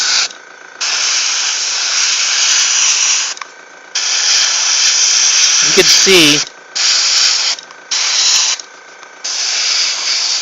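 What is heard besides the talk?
spray priming miniatures with white primer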